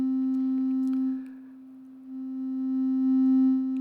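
A steady, clean sine tone from a Plates modular synthesizer module holds alone, dipping briefly in level and then swelling back louder.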